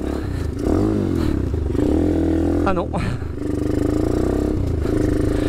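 Mini GP motorcycle engine revving hard while being ridden, a loud buzzy drone rising and dropping in pitch with gear changes, a rider's voice briefly heard over it.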